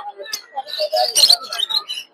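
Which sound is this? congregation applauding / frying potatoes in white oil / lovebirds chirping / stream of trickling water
lovebirds chirping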